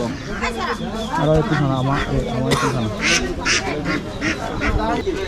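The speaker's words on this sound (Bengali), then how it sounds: "দেখুন এখানে বাচ্চা হাঁসও আছে" Ducklings quack at a busy outdoor market, with rapid nasal calls repeating over continuous nearby talk and crowd bustle.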